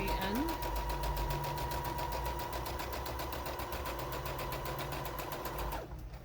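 A sewing machine back stitches fabric for a Christmas card, its needle chattering in a fast, even rhythm from start to finish, close and steady before it stops.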